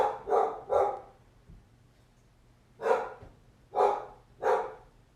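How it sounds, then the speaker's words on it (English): Dogs bark at close range in a quiet room during a yoga session, with two quick barks followed after a pause by three more spaced, sharp barks. "so you don't hear my dogs barking."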